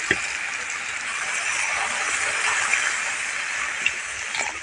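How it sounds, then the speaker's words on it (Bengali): Water pours steadily into a cooking pot over fried potatoes and pumpkin, a continuous close gushing splash with a few faint clinks. "এর মধ্যে দিয়ে দেবো পানি।"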